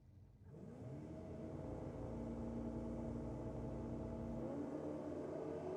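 Drag racing cars, a Ford against a Holden, launch side by side in the Top Gas final at Sydney Dragway, a loud sustained engine roar that builds within the first second and holds steady, then eases near the end.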